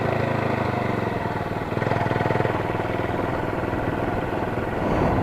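A motorcycle with a Yoshimura USA slip-on exhaust runs at a fairly steady mid pace, its exhaust note pulsing slightly and then easing, heard close with no voices.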